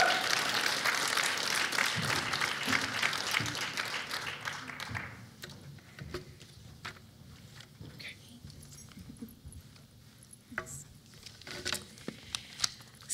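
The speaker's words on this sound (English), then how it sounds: "Round of applause, round of applause." Audience applause welcoming a speaker to the stage at a 25th anniversary awards banquet for a Native American aging organization, dense clapping through the first five seconds, then thinning into scattered claps and room noise.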